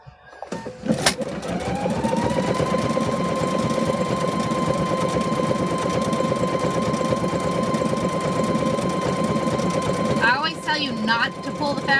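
A sewing machine runs steadily for about ten seconds while stitching fabric for a car seat cover, its motor hum and rapid needle strokes loud and close, then it stops briefly and restarts near the end.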